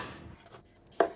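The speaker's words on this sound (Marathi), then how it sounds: "टमॅटोज कातुया." A single crisp knife chop through tomato on a board, close and brief, after a quiet moment of soft handling.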